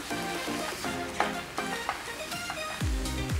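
Tom yam fried rice sizzles and fries in a pan, with repeated scraping and stirring strokes of a spatula up close and loud throughout, no voices.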